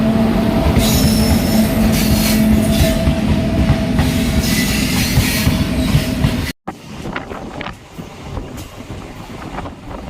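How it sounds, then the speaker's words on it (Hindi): A goods train passing the Intercity Express at a crossing, with loud, close rail rumble and sustained high wheel squeal, then a sudden cut to a rougher, clattering rolling noise. "तो एक और गुड ट्रेन आ गई है, लूसा में क्रॉसिंग हो रहा है।"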